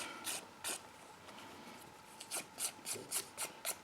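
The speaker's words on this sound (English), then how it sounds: "It's not actually an eraser, it is a sander. So it's sanding off the paper." Rapid rasping strokes of a small handheld Tombow Mono sander eraser scrubbing paper, quiet and close, in irregular bursts that quicken into a steady back-and-forth rhythm near the end.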